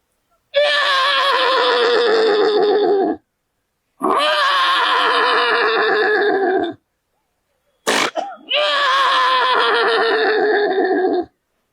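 A human voice imitates a horse neighing, three long loud whinnies separated by short pauses, with a brief throaty burst before the last.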